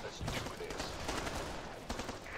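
Rapid AK rifle fire in a zombie video game, a dense, steady burst of shots lasting the whole moment with faint voices underneath.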